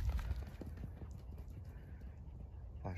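A German shepherd dog walks indoors with heavy, hoof-like thudding footsteps, a few quiet, irregular thumps close by, faint overall, with a brief soft noise near the end.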